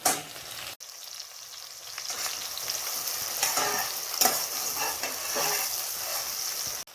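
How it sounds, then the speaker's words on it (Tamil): Onions and tomatoes frying in a pan for chicken pepper fry, a steady sizzle with scraping stirs and a few sharp clatters, close and moderately loud. "வெங்காயம் கொஞ்சம் செவந்தாச்சு. இப்போ தக்காளியை நம்ம இதில் போடலாம்."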